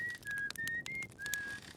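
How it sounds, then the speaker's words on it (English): Esker, a character in the video game Outer Wilds, whistles a slow melody while sitting in a rocking chair on the Attlerock. The whistled notes are clear and sustained, held and sliding between pitches, quiet and alone against faint background tones. "Esker in a rocking chair on the Adder Rock whistling"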